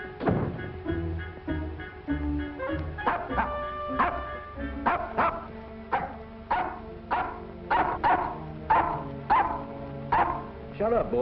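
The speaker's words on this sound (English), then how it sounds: "What the dickens are you barking at?" A dog barks repeatedly in a steady rhythm of loud, close yaps, with a few whimpers in between and a musical background underneath.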